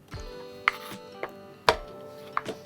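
Bottle gourd being chopped on a board for a lau malaikari, a few sharp separate knife strokes spaced irregularly over a quiet kitchen background with no talk.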